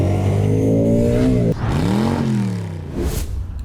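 A 2026 Ducati XDiavel V4 motorcycle is ridden with its engine close and loud, the V4 rising in pitch under throttle, dropping at a gear change, then pulling up again before easing off.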